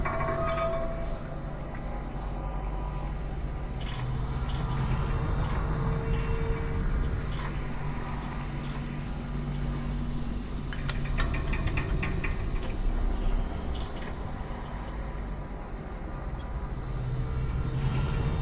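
A steady low rumble of a tram rolling along in the VR game Lone Echo, with rattling, clanking wheels and faint metallic squeals over a constant mechanical drone.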